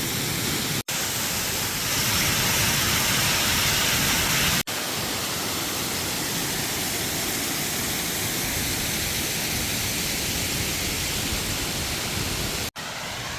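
A steady, loud rush of falling water roars without pause, a dense continuous wash of noise close by.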